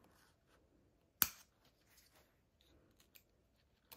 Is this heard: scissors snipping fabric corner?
yes